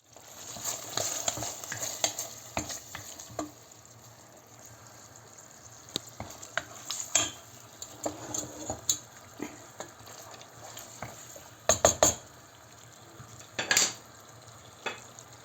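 Onions sizzling in a pan while a utensil stirs and scrapes, with sharp clacks and scrapes against the pan at irregular intervals.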